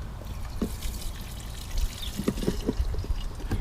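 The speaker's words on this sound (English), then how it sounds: "I'm going to put just a little bit of fresh gasoline in" Fresh gasoline poured into the fuel tank of a Toro mower with a Briggs EX engine, a soft trickling, splashing stream lasting a few seconds, close by and fairly quiet.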